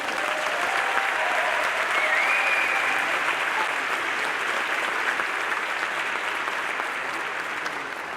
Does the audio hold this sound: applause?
yes